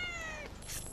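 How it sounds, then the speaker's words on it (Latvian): A single cat meow, close and clear: one drawn-out, falling call lasting about a second. "Kaķis, ņaut."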